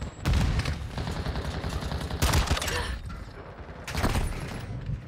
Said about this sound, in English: Enemy fire!